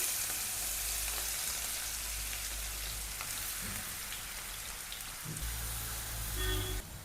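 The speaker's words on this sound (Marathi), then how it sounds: "तेल तापलेलं आहे, आता टाकून घेऊ आपण मिरची आणि शेंगदाणे." Green chilies and peanuts fry in hot oil with a loud, continuous crackling sizzle, close up, and a few clinks near the end.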